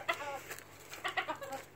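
Chicken clucking close by in a village yard, several short soft bursts of throaty clucks in an uneven rhythm, quiet and alone without talk.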